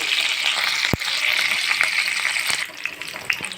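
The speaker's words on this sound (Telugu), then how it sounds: "ఆయిల్ అయితే వేడయ్యాక ఇందులో కొద్దిగా పెసరపప్పు జీలకర్ర ఆవాలు అలానే కొద్దిగా కరివేపాకు మూడు వేసి బాగా ఇలా" Moong dal, cumin, mustard seeds and curry leaves frying in hot oil for a flattened-rice breakfast, a close, steady sizzle with a sharp clack of a utensil and a few light stirring taps.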